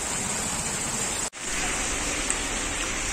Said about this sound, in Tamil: ஏப்ரல் மாசத்துல நல்ல வெயிலுக்கு இதமா மழை பெஞ்சிட்டு இருக்கு